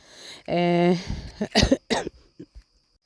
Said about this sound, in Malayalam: ചുമ വന്നപ്പോൾ ഇടയ്ക്ക് നിർത്തിയതാണേ